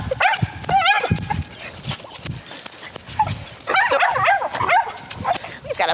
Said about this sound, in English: He's got a big bark for a little dog.